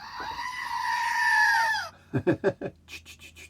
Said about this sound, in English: The old goats again. Let's see if we can get them here. Stereo goats.